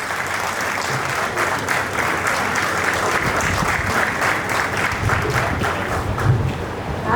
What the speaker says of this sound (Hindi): तालियां अब की बार मैं अनुरोध करता हूँ जोरदार बजाइएगा।